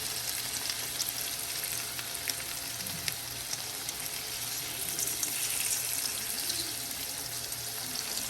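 Salmon cakes fry in a pan with a continuous, close hiss of oil that never lets up, broken now and then by small pops and crackles.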